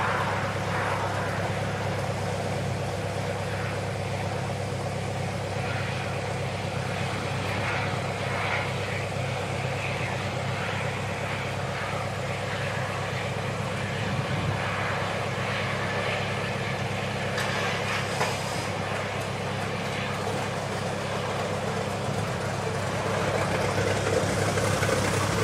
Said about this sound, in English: it's the P68 just starting up